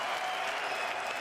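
Dense, steady applause from a large crowd fills the air at a CS:GO FaceIt Major grand final in London 2018, as a packed arena cheers the newly crowned champions Astralis, loud and continuous without a break.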